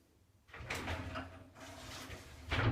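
A shower door slides along its track on a newly fitted Uniwheel replacement runner, making a close rolling rumble in two or three strokes separated by brief pauses, with no voices.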